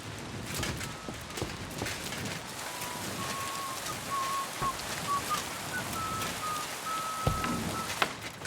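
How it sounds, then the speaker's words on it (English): Steady rain falls in the medieval world of Kingdom Come: Deliverance II, a continuous hiss of drops on surfaces with faint hoof clops and a thin whistle-like tone over it, no talk. "Damn rain."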